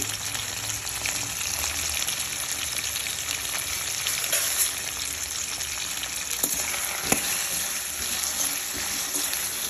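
Large chunks of taro root, already boiled, browning in hot oil in a pan, with a dense, steady sizzle and crackle and occasional pops, alone and close.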